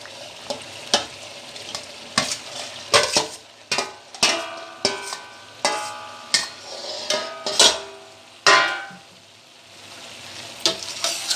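Chicken and okra with softened onion sizzle loudly in a hot pan as a spoon stirs and mixes them, with frequent sharp metallic scrapes and knocks against the pan over a steady frying hiss.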